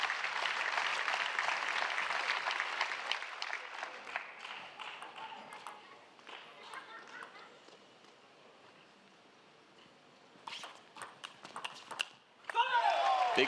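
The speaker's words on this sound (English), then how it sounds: "The slow clap speeds up." A table tennis crowd at a men's singles final claps in a slow, loud rhythm that fades, then rises again in quicker, sharper bursts.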